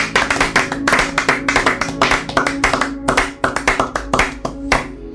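A church congregation at a youth prayer gathering claps in praise, loud, dense and rhythmic, the hand claps steady and close with faint voices beneath.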